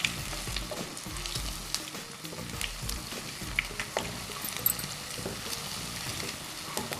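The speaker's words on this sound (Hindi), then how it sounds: "अच्छी तरह से फ्राई करेंगे जब तक ये" Maggi Manchurian balls frying steadily in hot oil, a continuous close sizzle and crackle with occasional stirring scrapes and small pops, no talking.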